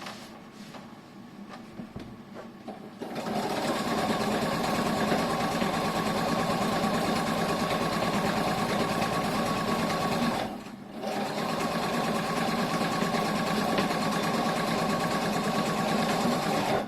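A sewing machine stitches a seam on a fabric shoulder bag, starting after a few quiet seconds and running in a steady rapid whir, with a brief pause before it resumes.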